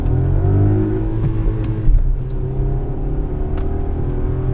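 Volkswagen Virtus, 115 BHP, launching against a 172 BHP Mahindra Thar Roxx at a drag race: a loud, close engine roar with steady revving and a brief gear-change dip, the sound continuous throughout.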